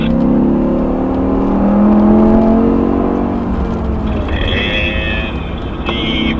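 A BMW M5's powerful engine revs and pulls away on a racetrack, its tone rising and fading, followed by a higher whirring from another vehicle nearby.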